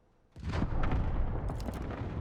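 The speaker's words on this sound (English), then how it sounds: "oh, I saw gunfire." Video game gunfire erupts suddenly after a quiet moment, a loud, dense burst of shots and booming reports that blur into a sustained roar lasting nearly two seconds.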